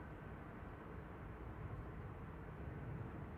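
A Boeing 787-9 Dreamliner approaches runway 05 right at Manchester Airport, a faint, steady distant jet rumble with no voices.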